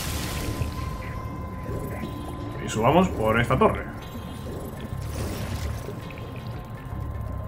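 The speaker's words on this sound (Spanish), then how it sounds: "vamos a activar el interruptor para que salga el agua y subamos" A switch in the Spyro 2 water tower level triggers a clanking mechanism and a gushing rush of rising water, a burst of rattling, pouring sound about a second long under a steady hum, while someone talks over it.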